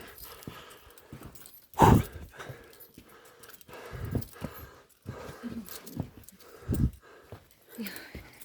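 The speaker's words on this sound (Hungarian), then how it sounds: "Melyik kutya van itt?" A dog on a hiking trail near Carolafelsen in Saxon Switzerland gives several sharp, loud bursts among scattered rustling and footstep-like knocks, with faint voices nearby.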